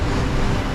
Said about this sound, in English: As you can see, it's quite choppy waves.